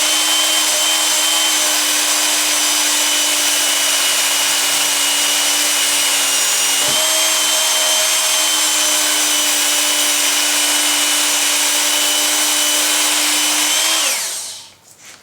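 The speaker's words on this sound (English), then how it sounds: "you just pretty much turn it on, and with a free hand you just work up and down the blade" Work Sharp belt knife sharpener grinding along a knife blade, a loud steady motor whine with belt hiss that holds for about fourteen seconds, then winds down as it switches off.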